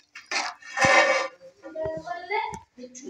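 A spoon scrapes and clinks against a pot while chicken biryani is stirred after salt goes in, a few short metallic knocks heard under a voice.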